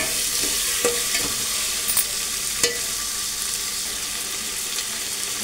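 Rice is stirred into fresh green chickpeas in a hot pan, giving a soft continuous sizzle broken by several scraping and tapping strokes of the spoon, close and fairly quiet with no talk.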